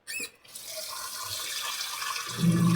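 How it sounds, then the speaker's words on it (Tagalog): Moringa (malunggay) leaves are rinsed under a running tap, with a steady close gush of water and a brief splash at the start as it fills the basin. "hugasan ko lang yung malunggay"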